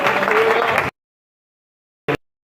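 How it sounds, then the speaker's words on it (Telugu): Church congregation clapping together, a dense burst of applause lasting under a second and then cutting off, followed by a brief short burst after a silent gap. "చప్పట్లు కొట్టండి, చప్పట్లు కొట్టండి"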